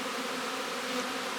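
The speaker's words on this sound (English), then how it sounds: "we have the bees out flying" Honey bees flying around a hive on a warm March day, a continuous close buzzing hum, moderately faint and steady, with no voices.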